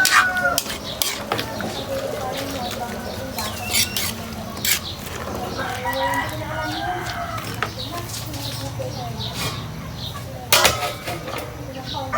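Utensils scrape and clatter against a pot of jackfruit in coconut milk with smoked fish in irregular stirring strokes, with a rooster crowing faintly in the background.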